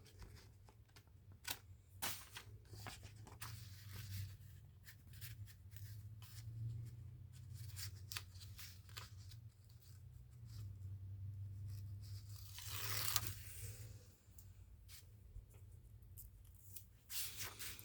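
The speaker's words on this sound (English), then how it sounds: "if it's a little long, I'll snip that off" Scissors snip paper for a junk journal made from paper bags, giving several short, quiet, close cuts and rustles spread out over a soft background.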